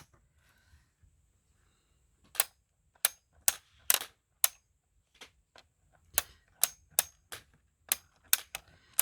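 Steel balls on a Magnatab magnetic toy tablet snap into place with crisp, close clicks, some single and some in quick pairs, in an uneven rhythm against near silence, with no talking.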